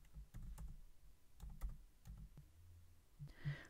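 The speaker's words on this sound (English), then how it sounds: "So I'm just going to type that in." Quiet keystrokes tap on a computer keyboard in short irregular bursts of clicks, close and soft, with a slightly louder rustle near the end.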